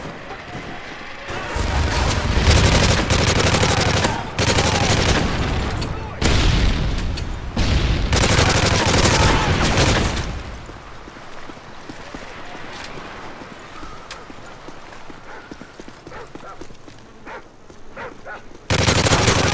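Video game firefight with rifle shots and machine gun covering fire against hostiles, loud dense bursts of rapid gunfire and booms for about ten seconds, then quieter scattered shots and a final burst.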